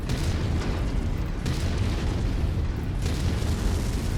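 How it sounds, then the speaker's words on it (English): Mech cannon fire in MechWarrior 5: Heroes of the Inner Sphere, a heavy, continuous booming rumble with sharper blasts near the start and again about two thirds through, no voices. "I gotta aim slightly right when I shoot the left cannon and slightly left when I shoot the right cannon"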